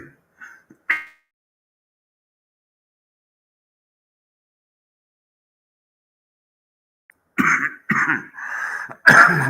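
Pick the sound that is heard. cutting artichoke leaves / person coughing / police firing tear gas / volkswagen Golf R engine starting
person coughing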